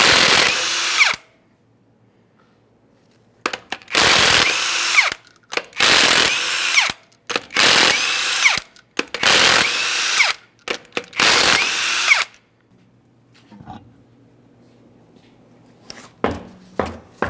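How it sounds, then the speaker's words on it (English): An impact tool spins off the 21mm lug nuts on a Ford F-150 front wheel in six loud, closely spaced whirring bursts of about a second each, separated by quiet gaps, with a few faint clicks near the end. "To remove the wheel, remove all 6 of your 21mm lug nuts and we can get this off of here."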